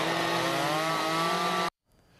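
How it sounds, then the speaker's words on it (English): A chainsaw roars at full throttle, loud and close, as carvers in Wisconsin cut logs and stumps into sculptures at a competition, then it cuts off abruptly into quiet. "Master chainsaw carvers in Wisconsin gathering to turn logs and stumps into works of art."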